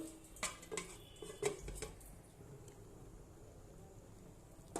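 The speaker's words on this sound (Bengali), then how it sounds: "এবার আমি ঢেকে দেবো ফুটানোর জন্য।" A metal lid goes onto a cooking pot of dal with a few quiet clanks and rattles early on, followed by a low, faint stillness.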